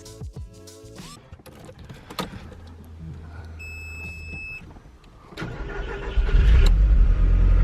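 A car cranks and fires up after some clicks and whirring, then settles into a rough, loud idle that swells toward the end, with no talk.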